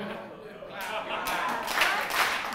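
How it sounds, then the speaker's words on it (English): A group claps hands during the "If You're Happy and You Know It" children's song, a few sharp, loosely synchronised claps under singing voices. "If you're happy and you know it, clap your hands."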